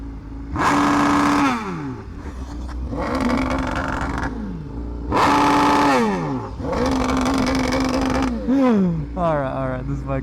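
A BMW HP4 Race motorcycle with a full exhaust screams through launch-control revs, roaring up in three long bursts with steep pitch sweeps between, loud and close, with voices talking underneath.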